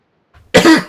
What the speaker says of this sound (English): I'm gonna cough, try to clear it.